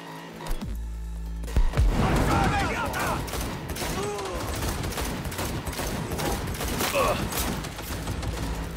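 Gunfire in the video game Cyberpunk 2077, with bursts of rapid shots and booms mixed with game sounds and music while people talk over the action.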